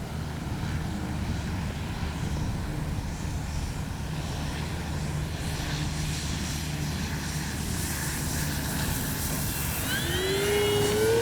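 An FMS P-47 Thunderbolt RC model warbird making a touch and go, its motor a steady loud whine and drone throughout that rises to a higher pitched pass near the end.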